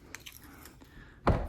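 A hidden door to a secret room swinging shut, preceded by a few faint light taps and creaks, then ending in a single loud, close thud as it closes.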